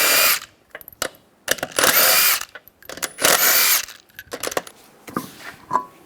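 A power tool spins off the 21mm wheel lug nuts on a 2004-2009 Toyota Prius in several loud, close bursts, each under a second long, with short ratcheting clicks and quiet gaps between them.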